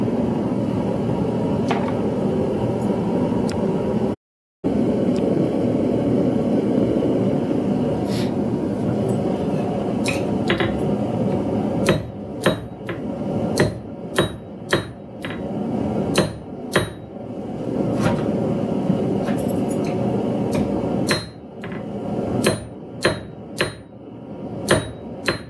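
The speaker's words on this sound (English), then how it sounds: "I'm going to try to do my best using a hammer and the corner of the anvil" Sharp metallic hammer strikes ring out against a steady roaring background, at first sparse, then coming in quicker irregular bursts of blows on an anvil's corner while forging a leaf keychain.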